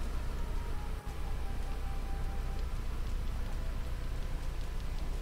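Steady rain in a video game pours down in a dense hiss of drops hitting surfaces, constant and moderately loud with no voices.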